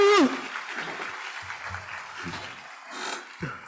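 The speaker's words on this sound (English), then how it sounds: "Do they got the audience clap?" Recorded audience clapping plays back faintly and scattered as a sound effect, with a sharp electronic chirp at the start and bits of nearby speech over it.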